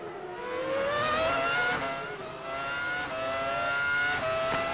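A Formula 1 car's engine screams at high revs on board during the 2000 French Grand Prix, pitch rising steadily through the gears and dipping at shifts, loud and continuous with no voices.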